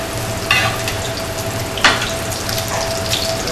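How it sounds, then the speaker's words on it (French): A scallop skewer frying in a pan while being basted with butter, a steady close sizzle with two sharper bursts as butter is spooned over, heard alone without speech. "Donc on arrose de beurre en même temps."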